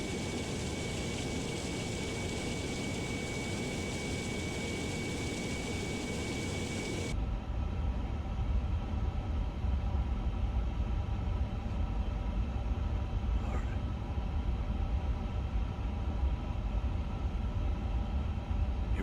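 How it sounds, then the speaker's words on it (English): Auxiliary power unit of an Airbus A350 in Microsoft Flight Simulator, a steady close whine and hum with a high tone that runs continuously, then settles into a lower, rougher drone partway through. "Wow, that APU sound is amazing."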